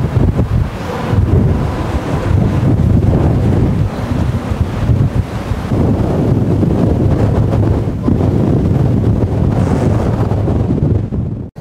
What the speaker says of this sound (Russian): Ветер так дует, что аж Линкольн шатается.